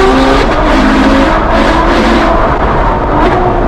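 An 800 hp Ferrari GT accelerates hard, its loud engine roar filling the cabin as steady rising drone with no talk.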